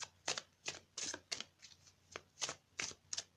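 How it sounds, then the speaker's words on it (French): A tarot deck being shuffled and cut, giving a run of about nine crisp, papery riffle bursts at a steady rhythm. The cards sound close and quiet, with nobody talking. "Moi, je vais couper le jeu."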